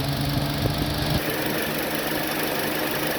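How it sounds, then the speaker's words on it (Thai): A Mitsubishi 4312 EX engine runs during air-conditioning repair work, with a rough, knocking mechanical drone that revs briefly before settling to a lower, steady idle. "เครื่องยนต์เร่ง"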